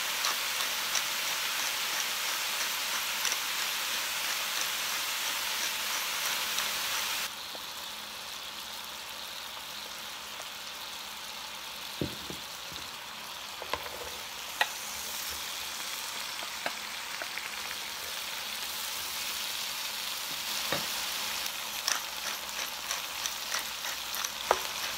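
Mushrooms and onions fry in a pan with a steady hiss of sizzling that softens partway through, broken by scattered stirring clicks and scrapes.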